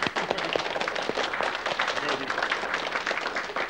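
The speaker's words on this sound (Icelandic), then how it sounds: "klappa fyrir ykkur." A studio audience at the close of a 1989 Icelandic television song show applauds with dense, steady clapping that fills the whole stretch, with some voices mixed in.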